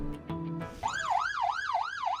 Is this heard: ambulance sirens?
yes